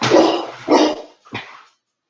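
Several house dogs bark loudly and close by, three sharp separate barks with short gaps between them, then silence.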